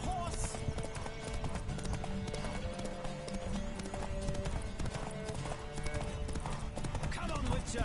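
A horse in Witcher 3: Wild Hunt gallops with rapid, steady clip-clop hoofbeats and a brief whinny, mixed with game music and effects at constant loudness.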